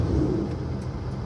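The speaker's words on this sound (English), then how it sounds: "So if you hear truck noise and other vehicles, I'm actually heading to the beach." Road traffic with trucks and other vehicles makes a steady low rumble and whir on the way to the beach, a continuous moderate drone with no distinct passes.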